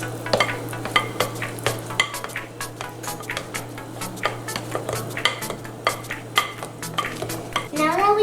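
Batter for cupcakes is mixed in a bowl, the utensil scraping and knocking against the sides in a steady rhythm of close, repeated clinks over a constant low hum.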